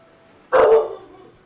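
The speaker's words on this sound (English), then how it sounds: "You might hear a dog in the background." A household dog gives a single short bark somewhere in the background indoors. The bark is moderately loud and followed by quiet.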